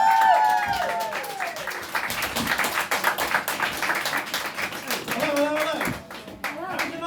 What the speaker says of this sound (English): give an absolutely massive round of applause, huge welcome